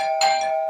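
A doorbell rings indoors in a few bright, sustained tones, with a steady tone running through and a second ring starting at the end, loud and close with no talking.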